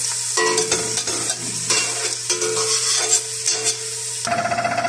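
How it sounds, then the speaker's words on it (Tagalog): Onions frying in a pan, a steady loud sizzle with repeated stirring scrapes and clinks across the whole stretch, and no talking. "sabang niluluto natin ang ating sibuyas"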